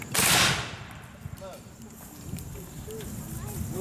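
Rear rank of period infantry fires a rifle volley during a living history drill at Fort Totten: one loud, close blast at the start, then its fading echo and quiet background murmur.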